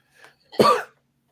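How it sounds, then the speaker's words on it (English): A single sharp cough, close and fairly loud, preceded by a faint breath. "I got this weird cough."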